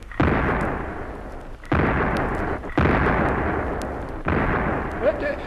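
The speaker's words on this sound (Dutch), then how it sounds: "Hy kom deur. Vuur!" Cannon fire in a radio-drama sea battle during the British conquest of Natal, with a schooner involved: four heavy booms at uneven intervals, each a loud blast trailing into a long rumbling roar.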